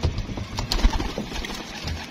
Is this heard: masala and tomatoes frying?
no